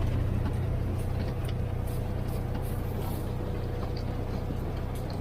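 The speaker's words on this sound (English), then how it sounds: "Engine braking's kicking in, it's slowing down." A 2019 Polaris General utility vehicle rolls downhill in high range with engine braking, giving a steady low rumbling drone with wind and rattle over it, constant and fairly close throughout.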